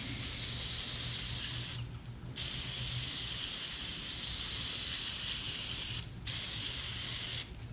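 Break-Free cleaner is sprayed onto a Browning A5 shotgun in long, close, steady hissing bursts, broken by two or three brief stops. No one speaks.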